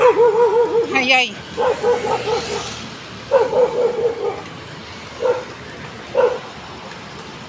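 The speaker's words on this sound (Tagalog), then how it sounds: "Galit yung aso ay." An angry dog barks loudly and close by, in a string of sharp, harmonic barks and yips that come in several separate bursts with short pauses between them.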